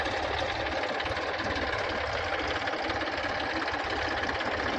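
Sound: tractor engine running in a field

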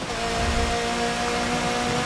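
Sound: rain in Forza Motorsport 7 video game race

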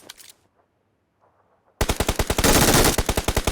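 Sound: gunfire in the video game PUBG Mobile

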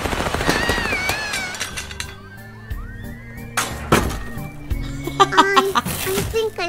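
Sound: gunshots from the video game Little Misfortune

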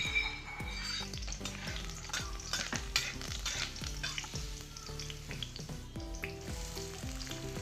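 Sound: curry leaves sizzling in hot oil

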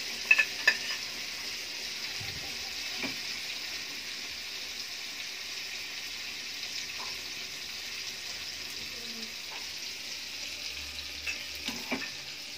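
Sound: dried fish (vaalai karuvadu) frying in pan

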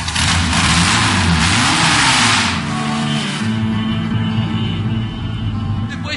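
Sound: vintage Patinho Feio race car engine revving

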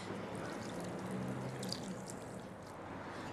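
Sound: hot tap water running over rice noodles

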